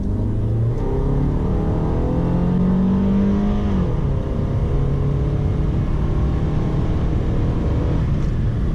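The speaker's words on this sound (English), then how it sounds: "here's an acceleration run" A 2025 Mazda3 2.5 S Carbon Edition AWD sedan accelerates from inside the cabin, its engine note droning and climbing steadily with a shift around the four-second mark, under a constant road rumble with no talking.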